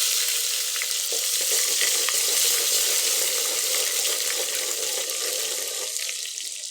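Chili powder and dried garlic fry and sizzle in hot oil for a chicken curry, a steady close hiss with occasional stirring scrapes, no voices.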